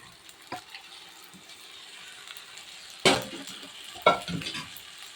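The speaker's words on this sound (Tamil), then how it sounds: "ஊற்றிட்டு நல்லா கிளறி விட்டுடலாம்" Pasta being stirred in a pan after milk is poured in, with a soft continuous sizzle and wet scraping, plus two sharper close stirring clatters near the end.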